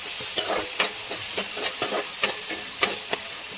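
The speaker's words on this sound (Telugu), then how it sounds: "వేసుకొని బాగా ఫ్రై చేసుకుందాం." Onions fry in hot oil with cumin, a soft steady sizzle punctuated by regular scraping strokes of a spoon in the pan, close and unaccompanied by talk.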